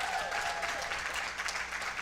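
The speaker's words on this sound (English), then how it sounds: "I want to see my boss clapping in the background there" Audience applause at a talk for the Human Rights Campaign, a dense, steady patter of many hands clapping throughout, moderately loud and slightly distant in a hall.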